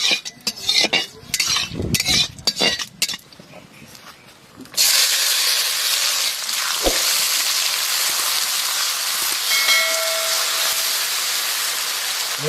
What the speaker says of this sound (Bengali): দুটো গরম তেলে তেজপাতা দিব, চিনি দিব